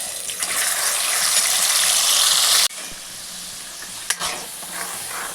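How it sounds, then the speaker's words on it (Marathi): Raw masala frying and being stirred in hot oil in a kadai for chole bhature, a loud steady sizzle that cuts off sharply midway and returns softer with a few scraping clinks. "चांगला परतून घेऊया मसाला।"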